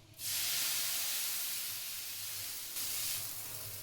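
A spiced corn flatbread with oil hitting a hot griddle, bursting into a loud steady hiss that fades slightly and then swells again, close and continuous with no voices.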